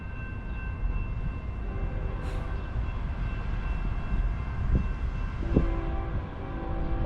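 A train passes nearby in Kings-Tulare county, California, giving a continuous low rumble with faint tonal squeals and a few brief sharp clanks, and no talk.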